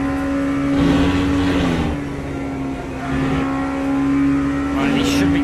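Race car engines in the Le Mans Ultimate sim, a loud, continuous drone with a steady tonal whine that rises and falls as the car accelerates and lifts, with a voice talking intermittently over it.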